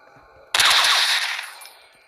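Gunfire from the mobile game Portal of Doom Undead Rising, a sudden loud burst of rapid automatic shots that starts abruptly and holds steady for over a second before tapering off.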